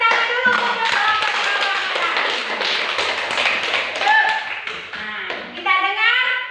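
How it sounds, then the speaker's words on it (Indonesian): A classroom group applauds a presenting group with a loud burst of clapping and tapping, mixed with children's voices chattering throughout. "kita tepuk tangan dulu untuk kelompok"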